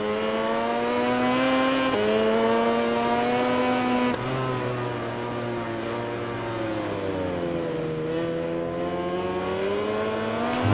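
Racing motorcycles from the MotoGP 20 video game, including a Ducati and a KTM, scream at high revs with clear gear shifts and rising and falling engine pitch, loud and continuous, with no talking.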